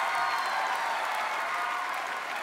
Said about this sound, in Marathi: आणि जोरदार टाळ्या मेघा घाडगे यांच्यासाठी